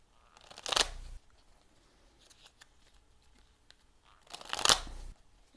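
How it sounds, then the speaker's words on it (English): Playing cards are riffle-shuffled twice, each a brief rapid flutter up close, with quiet rustling in between. "Okay, one more shuffle."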